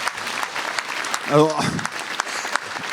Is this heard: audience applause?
yes